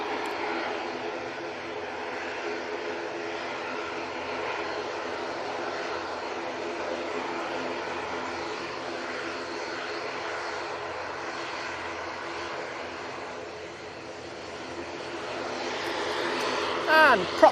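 An EasyJet Airbus A320neo departs to Dalaman from Manchester Airport, its engines making a steady distant roar that swells slightly near the end, while a voice talks over it at times.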